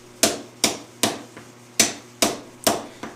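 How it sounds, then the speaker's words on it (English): A hammer cold forges a Japanese sashimi knife blade with six evenly spaced, ringing metallic blows, each decaying briefly before the next, close and loud with no speech. "So here I'm cold forging, and then straightening after the blade has been cold forged."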